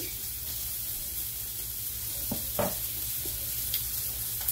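Bubble waffle batter cooking inside a locked waffle iron, a steady soft hiss and sizzle with a few brief clicks and scrapes near the middle, close by and without talk.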